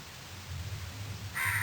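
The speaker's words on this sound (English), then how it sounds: "There is a crow calling me from outside." A crow caws from outside, with a couple of faint calls followed by a louder, clearer caw at the end; no talking.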